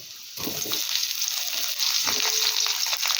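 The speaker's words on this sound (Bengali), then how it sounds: "সমস্ত সবজি খুব ভালো করে আবারও ভেজে নেব" Vegetables such as potato, pointed gourd and pumpkin fry in mustard oil with a steady close sizzle, a soft stir or clatter near the start and faint scraping later on.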